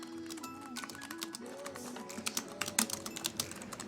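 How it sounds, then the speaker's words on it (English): Quick, uneven clicks of typing on an Anker Bluetooth keyboard come through close and fairly light, picking up pace toward the end over quiet background music. "I've been using this keyboard for maybe a couple hours now, and I've got to say, I've been typing a lot faster."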